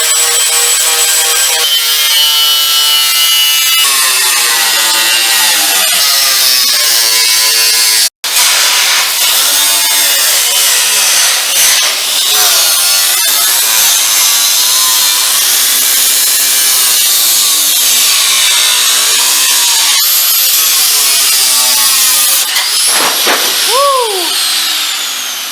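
Harsh, loud grinding of a cutting tool biting through the roof metal of a Nissan 240SX goes on and on, briefly stopping once, then ending with a rising whine as the blade spins down.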